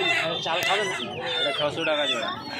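A crowd of silkie chicken chicks at Uluberia hen market cheeps shrilly and continuously up close, the high peeping overlapping with people talking.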